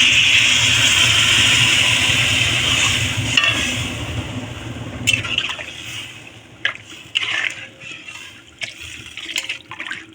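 Water pours into sizzling pona fish curry with drumstick stems, potato and pointed gourd in a pan, a loud rushing hiss that fades into quieter bubbling, with scattered clatters of stirring.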